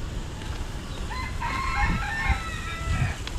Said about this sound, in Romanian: Cocoș în junglă, da.